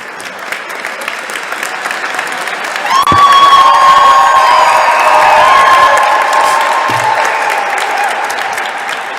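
A ceremony crowd bursts into applause and cheering for the Wisconsin governor at a Veterans Day event in the State Capitol, scattered clapping swelling into loud sustained applause with whoops and shouts, then slowly tapering.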